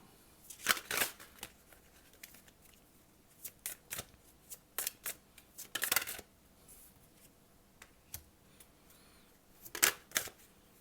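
Tarot cards shuffled and drawn for a reading, with close, intermittent riffling bursts and soft card slaps separated by quiet pauses.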